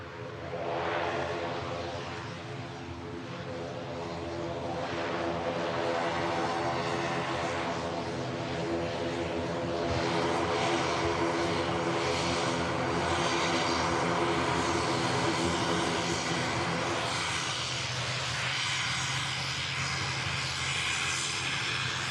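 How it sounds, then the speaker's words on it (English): An Aer Lingus ATR turboprop in from Dublin lands on Manchester Airport's runway, its propeller engines giving a loud, sustained droning roar with steady tonal hum that builds early and stays strong throughout. "Runway 2 as the Aer Lingus in from Dublin"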